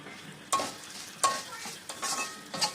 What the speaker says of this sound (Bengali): এরপর এর মধ্যে আমরা মসুর ডালটা দিয়ে আবার একটু নেড়ে নেব।